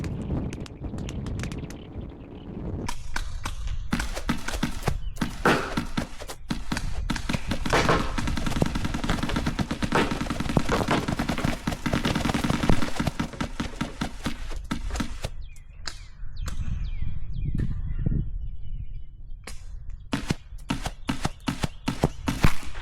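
Paintballs fired at an Insta360 camera fitted with a premium lens protector come in rapid bursts of sharp close cracks and smacks, with short pauses between volleys.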